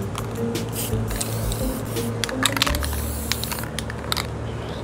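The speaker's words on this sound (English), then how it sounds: "Once it's covered, we spray the whole thing in black." A steady hiss of spray paint can spraying runs throughout, close and fairly loud, with small clicks and rattles scattered on top.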